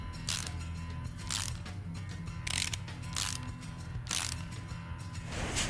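A ratchet bolts down an intake manifold on a Renault Clio engine in Car Mechanic Simulator 2018, heard as several short bursts of rapid clicking spaced about a second apart over a low mechanical background hum.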